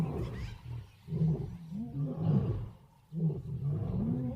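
A big cat, a lion, roars several times in close succession, deep, rough and loud, with brief pauses between the bellowing calls.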